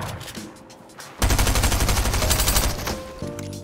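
Rapid automatic gunfire in Fortnite while the player slides, a dense run of loud close shots lasting about two seconds, with a few scattered shots before and after.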